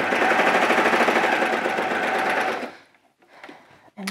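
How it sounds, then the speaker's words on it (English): A serger overlock machine stitches a seam on a coverall garment, giving a loud, fast, steady mechanical whir for about two and a half seconds before stopping, followed by quiet handling noises. "So I'll take that to my serger and we'll serge this one up"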